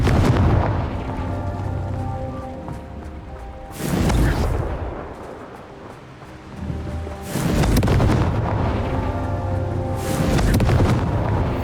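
Confringo spell blasts from Hogwarts Legacy land as loud, close explosive booms, three big bursts spaced a few seconds apart, each trailing off into a rumbling decay.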